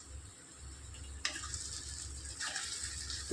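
Yam mash cooking in oil in a pan, a steady close sizzle with soft scraping from stirring, without any water.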